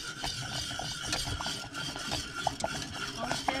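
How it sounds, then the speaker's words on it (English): Spoon stirring a thick chocolate fudge mixture in a pot while cooking off grid, a continuous scraping and swishing with light metallic clinks against the pot, close and fairly quiet, no talking. "You are going to stir this continuously"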